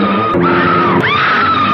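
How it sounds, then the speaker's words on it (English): A woman screams and wails in the King Kong film, loud sustained cries with rising and falling pitch over a dense orchestral score, with a second scream swelling near the end. "Yeah, scream some more."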